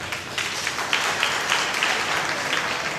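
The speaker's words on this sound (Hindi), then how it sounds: "एक अच्छी ताली प्रभु के लिए।" A church gathering bursts into applause for the Lord, a steady wash of many hands clapping at moderate loudness with no pauses.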